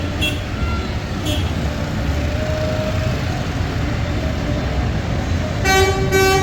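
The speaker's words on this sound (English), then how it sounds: "Look how beautiful are the garbage trucks." Garbage trucks of the Tel Aviv sanitation department, dressed up for a Purim street parade, rumble past in steady traffic noise. Short horn toots come near the start and a louder, sustained honk comes at the end.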